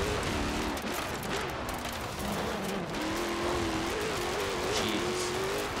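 A Jeep Trackhawk engine droning steadily in Forza Horizon 4, a continuous loud hum that rises and falls slightly in pitch as the SUV drives on, with no voices.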